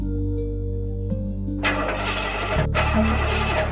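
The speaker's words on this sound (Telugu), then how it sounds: "బండి స్టార్ట్ అవట్లేదండి" A vehicle engine cranks but fails to start in a Telugu film scene: a low hum, then bursts of harsh mechanical churning broken by a brief pause, up close and with no talking.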